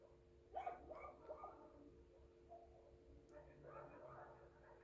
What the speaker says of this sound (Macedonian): Моето кученце Кендалче е најубавото куче на целиот свет.